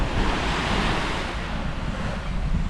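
Rough ocean waves roll and break on a beach, a loud continuous surf roar with wind buffeting the microphone, no voices.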